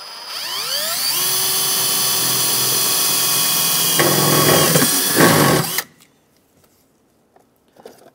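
A 1/8 inch drill bores a hole through a truck cab corner panel on a 2001-2006 Chevrolet Silverado 2500, its whine rising in pitch and then holding loud and steady for about five seconds before cutting off into near silence.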